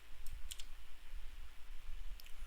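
Mouse clicks from someone working in Unreal Engine 5.3 at a computer, a few sharp, brief, quiet clicks spaced apart over a low steady hum.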